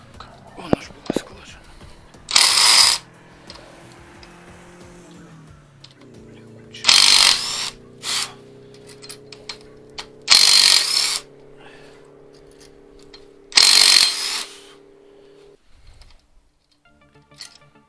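A wrench works the connecting-rod nuts on the engine of a Moskvich 2141, giving four short, harsh metallic bursts a few seconds apart, with low murmured talk and a steady hum between them.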